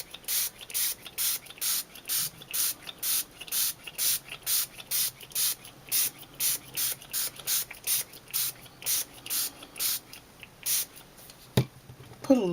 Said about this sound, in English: Spray it a little bit more.